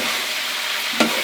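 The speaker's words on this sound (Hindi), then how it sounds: "तो हम अच्छे से हिला देंगे" Chicken being stirred with browned onions in a pot for chicken pulao, a dense continuous sizzle with one sharp utensil knock near the end.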